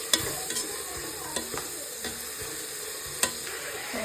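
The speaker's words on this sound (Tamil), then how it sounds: "பூண்டு, இஞ்சி அந்த விழுதை வந்து நம்ம இதில் சேர்த்து நல்லா வதக்கிக்கணும்." Onions with garlic ginger paste sizzle in a pan for biryani, a close, steady frying hiss broken by scrapes and clinks of stirring every second or so.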